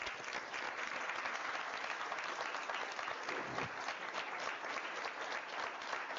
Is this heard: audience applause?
yes